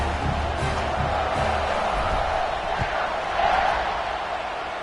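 Football stadium crowd at a Baylor versus Georgia game, a broad steady roar of spectators at moderate level throughout, with faint indistinct voices mixed in.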